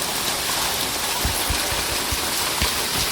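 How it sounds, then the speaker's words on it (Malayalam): Rain falls beneath a waterfall inside a wildlife park in Umm Al Quwain, a dense constant hiss of water close by with scattered low thuds of drops, no voices. "മഴ പെയ്യുന്നുണ്ട്. ഞാനിപ്പോൾ വെള്ളച്ചാട്ടത്തിൻ്റെ അടിയിലാണ്."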